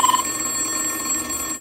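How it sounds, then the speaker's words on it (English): A telephone bell rung by Western Electric telephone company equipment gives a sustained electric ringing with bright high tones and a steady buzz beneath, alone and fairly loud before cutting off abruptly. "it makes phones ring, of course."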